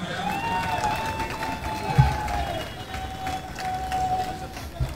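Audience applauding at a political speech and report launch in Kalyan with Raj Thackeray: sustained crowd clapping and cheering, with a whistle-like tone and a couple of thumps cutting through.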